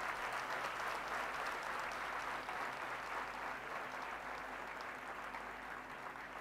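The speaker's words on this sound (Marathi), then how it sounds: "याबद्दल खूप मोठ्या टाळ्या व्हायला पाहिजे." An audience at a Guru Purnima gathering applauds steadily, a dense, even wash of many hands clapping that holds at the same level throughout.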